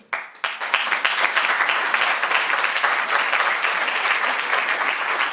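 Sustained, dense applause from a lecture audience at a communication-studies talk at UNAM, loud and steady from start to finish with no pauses and no speech.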